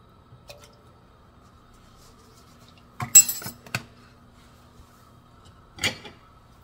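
A spoon stirs a butter roll sauce of butter, sugar and vanilla in a pan, giving a few faint scattered clinks and soft wet squishes against near silence.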